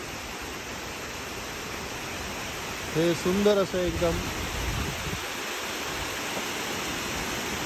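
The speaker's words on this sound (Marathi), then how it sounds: "त्या ब्रिजच्या बाजूने हे धबधबे तयार केले आहेत" Artificial waterfalls cascading beside a bridge at the Tower of the Americas in San Antonio, Texas, a steady, broad rushing roar throughout, with a person briefly speaking over it in the middle.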